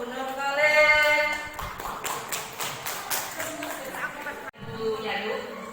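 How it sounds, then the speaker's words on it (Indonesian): Applause for a speaker at a school teachers' event, a short patter of clapping from a small audience, mostly beneath a voice speaking over it. "Aplaus untuk Bu Nur Kolin."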